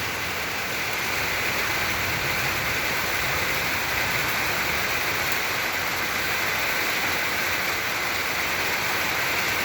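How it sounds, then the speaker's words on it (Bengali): Heavy rain pours down in a steady, dense roar, constant and loud throughout with no voices. "প্রচুর পরিমাণ বৃষ্টি"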